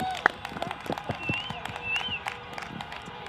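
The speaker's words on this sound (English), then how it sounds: "let's hear a round of applause for her" An audience claps for a speaker at a home movement and meditation event, a loose scatter of close handclaps fading over a few seconds, with voices murmuring and a faint whistle mixed in.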